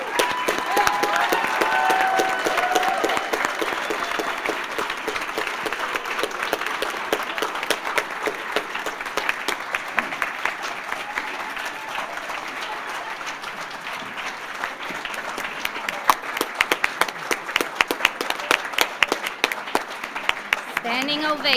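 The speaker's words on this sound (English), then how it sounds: "I would like to give a round of applause to our inductees." A large audience at an honor society induction ceremony applauds at length, sustained clapping that swells slightly toward the end, with faint cheering and voices mixed in.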